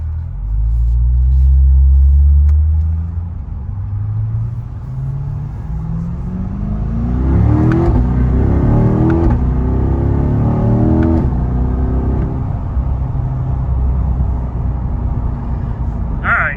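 A 2022 Corvette C8.R heard from inside while driving, its engine droning low and loud, easing off, then revving up through several rising, gear-shifting climbs before settling into a steady rumble.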